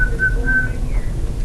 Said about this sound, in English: I can whistle in a code and you can all understand me.